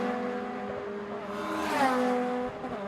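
Honda Civic Cup race cars lapping Snetterton circuit, engines droning steadily with a rising, revving pass around the middle, loud and close, with no talk over it.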